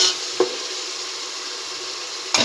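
Ginger paste frying in a pan for bagara rice with chicken curry, a steady close sizzle with a couple of brief scraping stirs of a spoon at the start and end.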